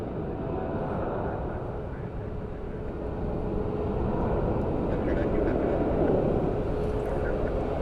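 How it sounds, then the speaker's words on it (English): United Airlines Boeing 757-300 taxiing toward the runway for departure at Orlando International Airport, a steady, loud jet engine rumble and whine held throughout, with other airliner noise mixed in around it. "United Airlines 757-300 heading over to runway 18 right for departure"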